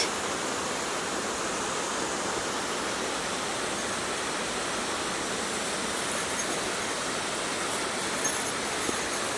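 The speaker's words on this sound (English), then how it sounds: "There's the waterfalls." A waterfall in the woods, a steady, dense rush of falling water that stays constant and fairly loud throughout, with no voices.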